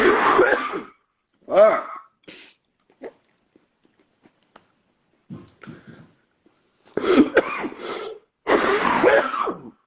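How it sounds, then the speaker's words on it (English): A man coughs in a few short, harsh bursts up close, with brief grunts and breaths between, then starts talking again. "I hate this cough"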